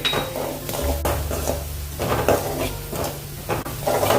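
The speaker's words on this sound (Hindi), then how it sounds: "थोड़ा सा इसको भून लेंगे मसाले को अपने सूखे वाले" Dry spices roast with radish in a pan: a metal spoon scrapes and clinks against the pan in repeated strokes over a low, continuous sizzle, close and fairly loud, with no talking.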